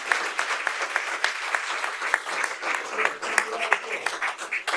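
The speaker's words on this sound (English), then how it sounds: "So let's give them a round of applause." A room at a Cocoa city council meeting breaks into a round of applause to recognize students' academic accomplishments, many hands clapping densely and steadily for nearly five seconds with sharper individual claps poking through.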